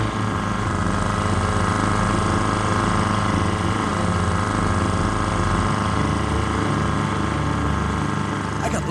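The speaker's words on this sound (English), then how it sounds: "My engine seems to be holding up" An outboard engine on a fishing boat runs steadily while trolling, making a continuous buzzing, rattling drone with a pulsing mechanical chug, loud and close throughout with no break.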